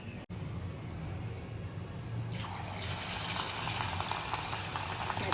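Prawns coated in cornflour, maida and food colour drop into hot oil, a soft background giving way partway through to a loud, steady sizzling hiss that carries on to the end, with no talk.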